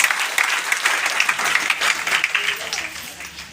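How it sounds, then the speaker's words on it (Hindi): Audience applause at a motivational business seminar in India, a dense, sustained wash of clapping from a large crowd that holds steady before tapering slightly toward the end. "जोरदार ताली सबके लिए होनी चाहिए"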